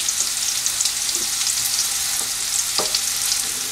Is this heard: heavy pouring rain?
no